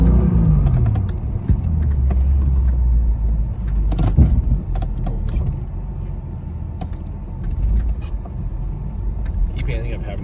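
A vehicle stuck in deep snow while winter off-road wheeling, its engine droning loud and steady as the tires spin, with mechanical creaks and knocks throughout.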